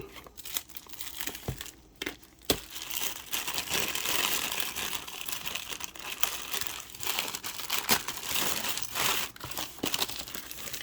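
Plastic and paper packaging around a 7-inch LED monitor crinkles and tears in continuous rustling bursts with sharp crackles, close up and with no talking.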